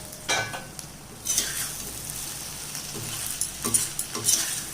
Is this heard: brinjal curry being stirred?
yes